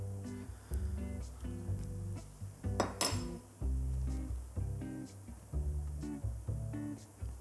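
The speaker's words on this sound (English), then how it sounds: "so we just delicately spoon this out" Food spooned out of a dish for a Mexican meal: close clinks and scrapes of a spoon against the dish come in short bursts with brief pauses between them, over a steady low background hum.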